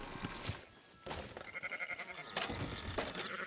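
Sheep bleat in the Red Dead Redemption 2 video game: several wavering, nasal bleats overlap across a few seconds against busy background game ambience.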